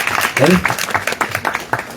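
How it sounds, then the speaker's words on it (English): An audience at a spiritual discourse in Janakpuri bursts into a round of clapping, the claps rising and falling in quick bursts beneath a speaker's voice. "Give a big round of applause"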